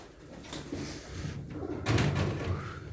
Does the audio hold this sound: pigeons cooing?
yes